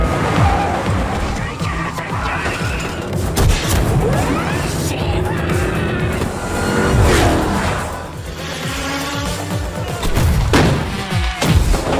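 Race cars at the start of a race, loud engines roaring and revving amid crashes and thuds in a dense, dramatic mix with voices underneath.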